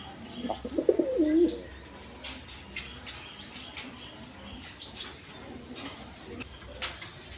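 Pigeons at a pigeon seller's place coo softly in a short burst near the start, followed by faint chirps and low background noise.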